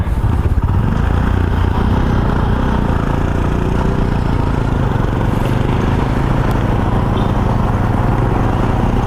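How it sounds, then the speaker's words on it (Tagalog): Motorcycles at a drag race beside a boulevard, heard as a loud, steady, dense engine roar with clattering mechanical texture filling the whole stretch, no pauses or clear passes standing out. "Ito yung tawag na drag race."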